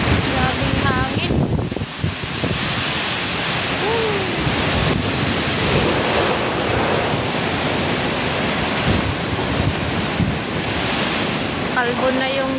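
Powerful typhoon Uwan winds batter Camarines Norte, a loud, continuous roaring rush with surging gusts, close and unbroken, with faint voices briefly audible beneath.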